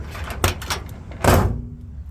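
A 1966 Ford Mustang coupe door is shut with two solid thumps, the second heavier, plus a faint rattle between them, heard close up over a steady low background hum.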